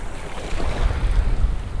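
Sand sifting from a Sito metal detecting scoop in shallow surf, heard as continuous low watery churning and wash with wind buffeting the microphone, steady and close throughout.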